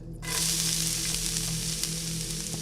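Steady, close sizzling and frying of food in a hot pan, crackling continuously with no voices.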